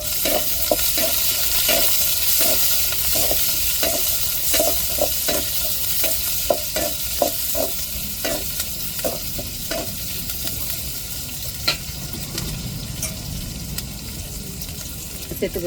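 Onion goes into a pan of hot oil already tempered with mustard seeds and urad dal, sizzling steadily while a spatula taps and scrapes in a quick, rhythmic series that later settles into a softer fry.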